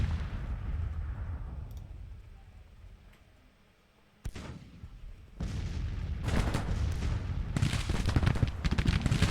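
Artillery guns firing in the Civil War strategy video game Grand Tactician, with a sudden loud boom after a quiet lull, then rumbling rolling blasts that build into a continuous heavy barrage.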